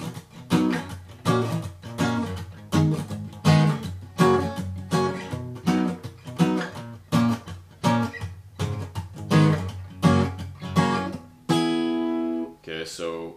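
Acoustic guitar strumming the bridge chords of a song, a rhythmic chord pattern played close and clear, ending with a sustained ringing chord and a final strum.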